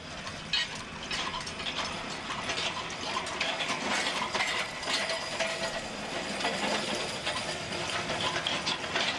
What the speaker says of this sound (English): it is connected to another Galfrey hay tedder